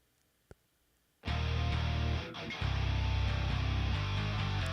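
After a faint click and near silence, a punchy, bright metal mix bursts in: heavy distorted guitar glued to a fuller new bass tone, loud sustained riffing with a brief dip midway before resuming.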